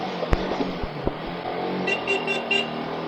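A Rusi motorcycle engine strains through deep floodwater, a steady close-up drone with a few sharp knocks and splashes, joined near the end by a short series of pulsing engine surges.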